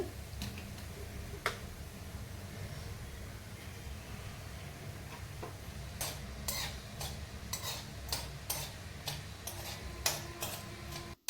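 Dried shrimp shells fry on a low flame in a pan, giving a soft, steady sizzle. In the second half a spatula stirs them with a quick series of scraping clicks. No one speaks.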